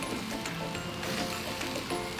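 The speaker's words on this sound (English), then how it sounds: "I keep on stir frying until everything is cooked." Green beans and chicken stir-fry in a pan, giving a continuous soft sizzle and crackle with faint scraping, steady and fairly quiet, with no one speaking.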